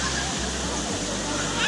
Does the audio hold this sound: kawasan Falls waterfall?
yes